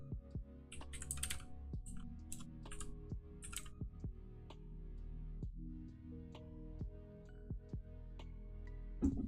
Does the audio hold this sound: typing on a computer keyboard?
yes